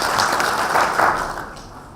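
Applause at a county public service board strategic plan launch in Elgeyo Marakwet: a crowd claps steadily for about a second and a half, then the clapping tapers off and fades.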